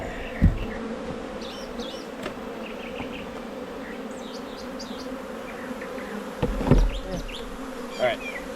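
Honey bees buzz steadily around an open hive during a late-May beehive inspection, a continuous close drone with a few brief knocks and thumps of frames being handled.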